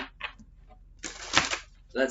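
A burst of riffling tarot card shuffling, crisp and close, with brief speech before and after.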